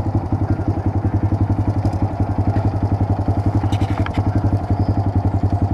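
A Honda Grom motorcycle engine idles at a petrol station with a steady, fast single-cylinder thumping pulse, loud and close, with brief faint clatters over it and no one talking.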